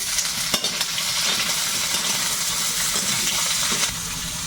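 Chopped onion hits a pan of frying potatoes and sets off a loud, dense sizzle that holds steady. An early metallic clink cuts through, and the hiss eases slightly at the end.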